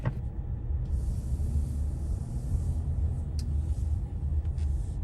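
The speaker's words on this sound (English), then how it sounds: "Okay guys, let's start driving." A car pulls away and drives off, with a steady low engine and road rumble throughout and no talking.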